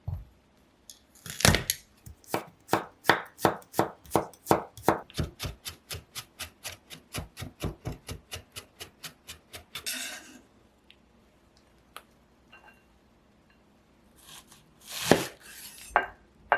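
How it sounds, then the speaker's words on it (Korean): A knife coarsely chops garlic on a cutting board in a steady run of quick, sharp, close knocks for about ten seconds, then stops; after a pause, a few more scattered chops and handling sounds follow. "마늘은 굵게 다져주세요."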